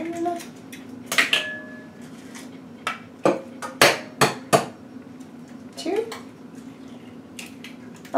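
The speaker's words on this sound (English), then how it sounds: "I'm going to crack my eggs." Eggs being cracked against a bowl in a home kitchen while baking muffins: a series of sharp, close knocks and clicks, spaced irregularly, over a faint steady hum.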